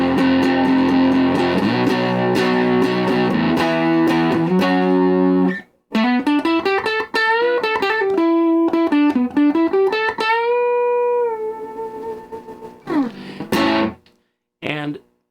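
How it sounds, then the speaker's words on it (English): Electric guitar played through a solid-state amplifier set to mild overdrive, gritty chords strummed at first, then a run of single-note melodic lines that ends in sustained notes and a few short stabs, loud and close. "then a mild overdrive."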